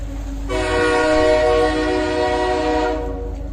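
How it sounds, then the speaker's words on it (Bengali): In a cartoon, a train approaching on the next track blows a loud, steady horn for about two seconds over a low rumble. "শোনা গেল ট্রেনের হর্ন। পাশের লাইনে আরেকটা ট্রেন ধীরে ধীরে এগিয়ে আসছে।"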